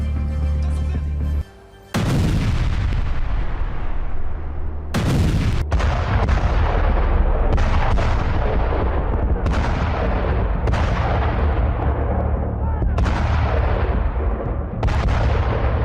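Israeli air strike on the Druze-majority city of Sweida in southern Syria, heard as a series of loud, booming blasts and gunfire reports repeating every second or two, each trailing off, over a constant heavy rumble.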